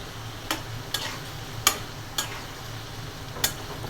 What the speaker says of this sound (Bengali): চিংড়ি মাছটা ভালো করে কষিয়ে নিলাম।